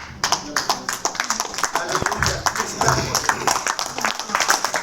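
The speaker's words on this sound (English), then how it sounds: "Clap for him." Workshop audience clapping in a hall, with a burst of distinct, uneven handclaps close by, mixed with voices and some crowd noise.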